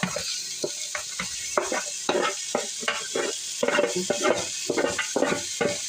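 Pork shoulder sautés with onion and garlic in a pan, frying hiss under repeated scraping and clinking stirs that come in quick irregular bursts, close and fairly loud, no talking.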